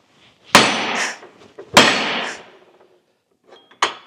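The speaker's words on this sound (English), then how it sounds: "I have this big hammer here, and I'm just going to whack it." Two sharp, loud metallic hammer whacks strike a nut on a Dana 44 rear axle about a second apart, each ringing briefly, followed by a lighter knock near the end.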